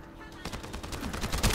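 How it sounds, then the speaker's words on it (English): Gunfire from The First Descendant shooter-looter video game, a dense rattle of rapid automatic shots rolling on continuously, loud and close, with a heavier blast at the end. "Now stop the gunfire."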